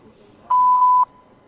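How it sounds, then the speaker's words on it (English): A single steady voicemail beep tone sounds after a recorded phone greeting, loud and clean for about half a second against a quiet background, with no talking over it. "please leave a message after the beep"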